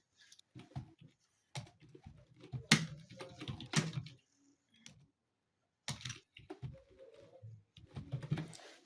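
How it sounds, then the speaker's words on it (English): Typing on a computer keyboard, with bursts of quick, light key clicks in irregular runs separated by brief pauses, fairly quiet and close. "Then now you just start typing on your keyboard."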